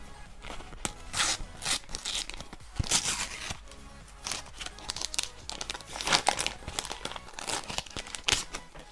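A Panini sticker packet from the Comme des Bêtes collection is torn open by hand, with close, crisp crinkling and tearing of foil wrapper in irregular bursts and rustling handling throughout.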